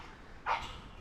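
A dog gives a single short bark at moderate distance, with a second brief bark starting right at the end, over quiet outdoor background.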